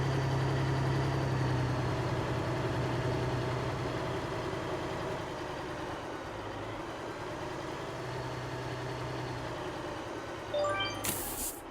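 A heavy truck engine idles in the Alaskan Road Truckers driving game, a steady low rumble with tonal hum, easing slightly midway before a brief mechanical clatter near the end.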